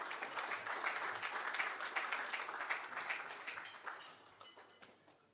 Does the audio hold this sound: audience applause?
yes